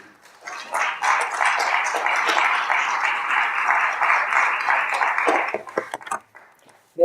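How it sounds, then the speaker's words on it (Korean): An audience at a founding general assembly breaks into steady, dense clapping that swells quickly, holds for about five seconds, then thins into a few scattered claps. "큰 박수 부탁드리겠습니다"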